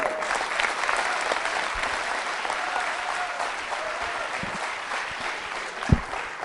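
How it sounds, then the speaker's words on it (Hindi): Strong, sustained audience applause for a contestant at a college Valentine's Day quiz show, a dense crowd clapping steadily throughout with a sharp knock near the end. "शैली जी के लिए तालियां जोरों से बजाइए, जोरदार तरीके से"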